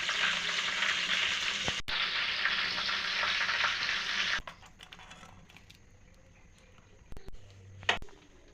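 Apple jalebi frying in hot oil gives a loud, dense sizzle for about four seconds, then the bubbling drops away to a quieter crackle with clinks and handling noises as pieces are lifted out.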